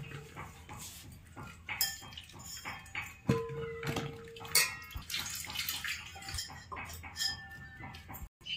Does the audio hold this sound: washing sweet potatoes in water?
yes